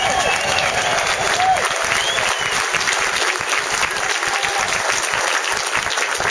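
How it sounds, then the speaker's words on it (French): Festival audience applauding outdoors at Notre-Dame-de-Pierreville, a dense steady wash of clapping with some crowd noise and brief whistles, loud and continuous throughout. "Une bonne main à Sylvain Lamotte"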